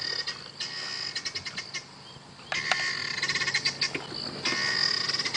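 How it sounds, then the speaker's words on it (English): Guinea fowl give an alarm call on an early-morning safari drive, a rapid series of harsh, rattling clucks in repeated bursts, fairly close and loud over quiet bush background. "So that's the guinea fowl alarm call."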